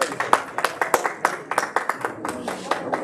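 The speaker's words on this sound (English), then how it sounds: "Let's give another round of applause to Tanmay" A small audience applauds tabla player Tanmay at a classical Indian music event, a sparse round of distinct, close hand claps in an irregular rhythm.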